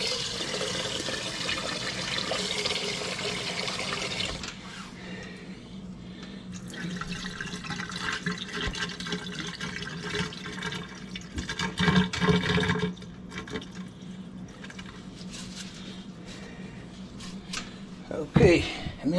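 Rice being rinsed under running water, a steady broadband rush of tap flow with sloshing and splashes from the grains, louder bursts near the end.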